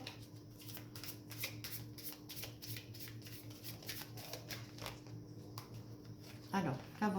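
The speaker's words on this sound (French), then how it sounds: "Je vais essayer de sortir 3 ou 4 cartes, voir les énergies." Oracle cards are shuffled close up in a steady run of rapid papery flicks, and a voice is briefly heard near the end.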